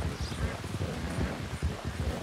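Horses gallop along a trail during a long-distance race in a video game, with a brindle Arabian and a tiger-striped bay Mustang among them, giving steady rapid hoofbeats under light wind noise at moderate loudness.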